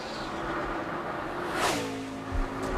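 NASCAR stock car passing during Pepsi 400 practice, a steady engine roar that swells into a sharp whoosh as the car goes by, then settles into a lower, receding drone.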